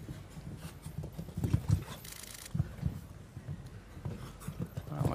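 Hooves of a show-jumping horse at the Aix-la-Chapelle Grand Prix thud in an irregular series of dull beats on the arena footing, under a noisy stadium crowd, with a brief burst of cheering midway.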